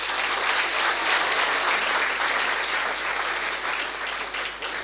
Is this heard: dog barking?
no